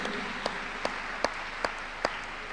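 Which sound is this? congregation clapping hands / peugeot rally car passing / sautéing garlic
congregation clapping hands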